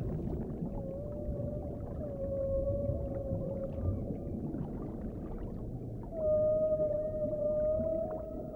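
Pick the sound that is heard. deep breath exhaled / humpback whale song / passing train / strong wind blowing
humpback whale song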